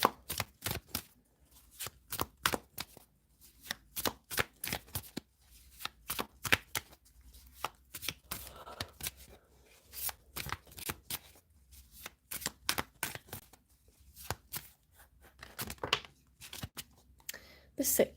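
Tarot cards being shuffled for a Virgo reading, heard as repeated crisp riffling and slapping bursts close to the mic, rhythmic and continuous across the whole stretch, with no talking.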